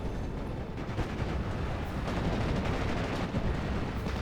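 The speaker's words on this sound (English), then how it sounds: "JU-87 coming in for another strafe" Strafing gunfire from a JU-87 dive bomber in a World War II video game, a dense roar of rapid bursts and rumbling impacts, loud and continuous without pauses.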